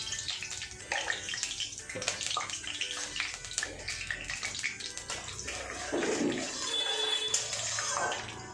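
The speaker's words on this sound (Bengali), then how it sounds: "কালো জিরেটা একটু ভাজা হোক।" Black cumin seeds fry in hot oil in a heated kadai, giving a steady close sizzling hiss with scattered crackles that grows slightly fuller toward the end.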